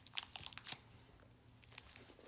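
Crunchy bites into a Crunch chocolate bar, several crisp crackling bites and chewing sounds up close in the first second, then quieter munching, with no talking.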